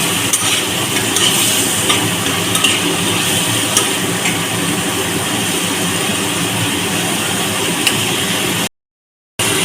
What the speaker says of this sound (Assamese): গলালৈকে ভাজি আছোঁ